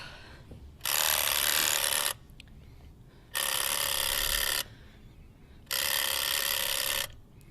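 An old-fashioned telephone bell rings three times, each long metallic ring lasting over a second with even gaps between, over faint background hiss.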